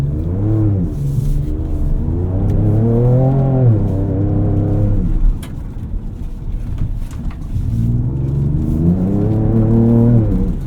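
Engine roar of a 2024 Ford Ranger Raptor truck driven fast off-road in Baja mode, loud and close, rising and falling with acceleration in two long revving surges separated by a brief rough lull, with wind buffeting the microphone.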